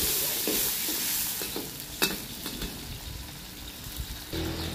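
Curry leaves crackle and sizzle in hot oil, a soft close frying hiss broken by a few light stirring clinks and scrapes.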